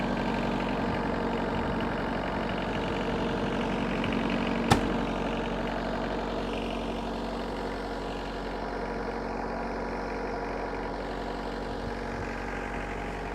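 An Iseki Geas 46S tractor engine idles steadily outdoors at a low, even rumble for the whole stretch, with one brief sharp click partway through.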